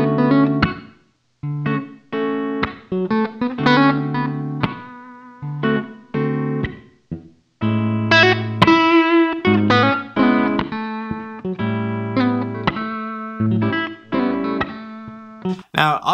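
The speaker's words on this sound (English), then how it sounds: "let's just start here with a real basic lead guitar melody." A basic lead guitar melody of short plucked notes and brief runs, played with slight distortion and rather loose tuning, in choppy phrases with gaps between them, close and clear.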